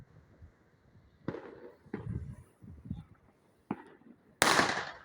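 Firecrackers and fireworks exploding on New Year's Eve 2024, a series of sharp bangs at irregular intervals with rumbling echoes, the last one close and loud.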